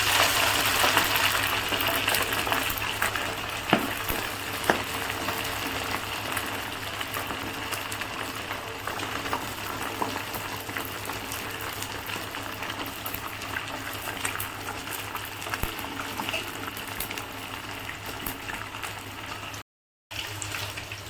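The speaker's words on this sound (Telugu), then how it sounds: "ఫిష్ ముక్కలన్నింటినీ కూడా ఆయిల్లో వేసి డీప్ ఫ్రై చేసుకుందాం" Fish pieces deep frying in hot oil for a village-style fish pickle, a steady dense bubbling hiss held close and fairly loud throughout, with a brief dropout near the end.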